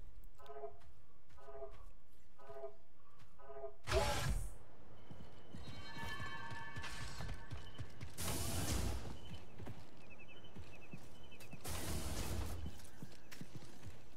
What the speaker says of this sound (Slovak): No, otváraj dvere.